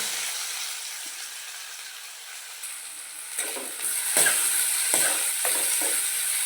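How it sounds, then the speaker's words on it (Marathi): Onion and garlic frying over high heat in a pan, a steady hiss of sizzling with a few sharp stirring scrapes and louder bursts in the second half. "आपल्याला ते छान असा कांदा तळून घ्यायचा आहे सोनेरी कलर येईपर्यंत"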